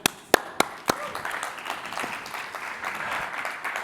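Rotary club members applauding a guest from the Blue Planet Alliance, opening with a few sharp, distinct claps that blend into softer, scattered clapping from a small room.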